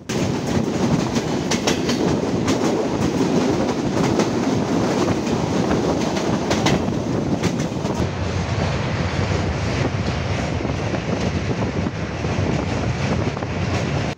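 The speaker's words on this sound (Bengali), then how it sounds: "চিত্রা এক্সপ্রেস ট্রেন তার নির্ধারিত সময় খুলনা রেল স্টেশন ছেড়ে যাচ্ছে" Chitra Express train pulling out of Khulna railway station, a steady loud rumble of wheels and carriages with rhythmic clickety-clack and wind buffeting the microphone throughout.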